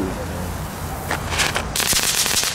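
Small firecrackers bought at HEMA crackle after a brief stretch of background hiss, short bursts of sharp pops building into a rapid crackling cluster toward the end.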